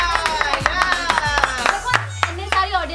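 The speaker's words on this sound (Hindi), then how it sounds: "तालियां बजाइए।" Audience clapping at a Whisper Challenge game show, with sharp scattered claps over music and voices, a brief uneven burst.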